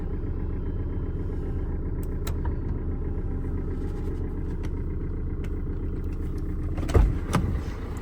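A 2017 Maruti S-Cross Zeta car engine idles with a steady low rumble, close by and unchanging, with a brief thump and knock near the end.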